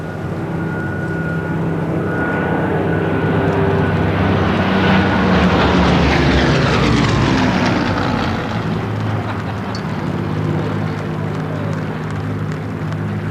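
A formation of fighter aircraft roars past on a Battle of Britain anniversary flypast, saluting the Queen. It builds from a distant drone to a loud, broad engine rush overhead, then fades away with no talk.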